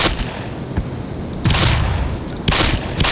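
Pistol fire in Black Mesa, three loud separate shots spaced about a second apart, each with a broad crack and short decay over a noisy background.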